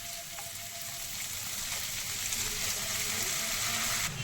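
Leftover rice goes into a hot pan of frying egg chicken fried rice, giving a steady, close sizzle and crackle that swells slightly louder partway through.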